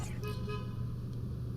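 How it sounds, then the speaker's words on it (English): A car horn honks outside a building in New York, a short, fairly distant toot or two over a steady low hum of traffic and room noise. "Why are you fucking honking the horn outside somebody's building?"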